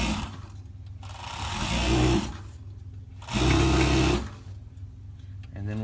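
A sewing machine stitches a swimsuit neckline with mesh binding in bursts, its whirring run stopping and starting several times, close and fairly loud with soft talk between runs.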